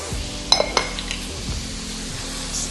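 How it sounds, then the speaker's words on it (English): Bean sprouts stirred with butter, garlic and pepper in a pan, a few sharp clinks of the utensil against the pan early on over a soft, low sizzle that carries on quietly. "Continue to give it a stir."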